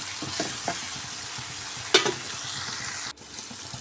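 Ginger-garlic paste sizzles with onion and tomato in a hot pan, a steady frying hiss broken by light scrapes and taps of a spatula, close and fairly quiet, with no talk.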